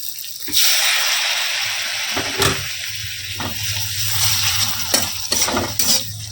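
Hot water is poured into sizzling spice masala, setting off a loud hiss of bubbling and steam that runs throughout, broken by a few sharp clinks and stirring knocks.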